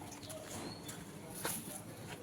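A pair of American Mong pigeons coo softly, the faint, low murmurs barely rising above a steady background hum, with one slightly clearer moment midway through.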